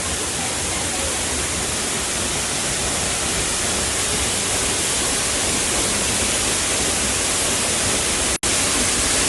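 Abanotubani waterfall in a gorge in Tbilisi, Georgia, roaring as a loud, steady broadband rush of falling water with no break except one brief dropout near the end.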